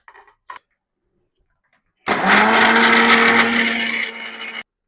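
A mixer grinder crushes coconut, garlic, cumin, pepper and green chilli, starting abruptly after a few faint knocks and running as a loud, steady whirring grind for about two and a half seconds before cutting off.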